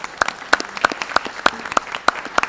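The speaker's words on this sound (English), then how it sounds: "Yes, round of applause." A small school board meeting audience gives a short round of applause for students who placed 7th in state buying and merchandising competition; about eight distinct, evenly spaced claps ring out sparsely in a quiet room.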